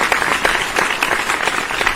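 Several hands clap at a steady pace through a podcast studio intro, a dense, close patter of claps with no voices over it.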